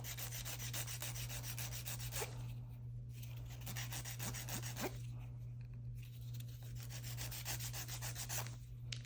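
Nail file rubbed aggressively back and forth across fingernails, a faint, continuous scratchy rasping with a steady rhythm over a low background hum, no talking.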